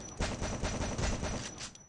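Rapid, loud bursts of Mag 7 shotgun fire in a video game, several blasts in quick succession with no talking over them.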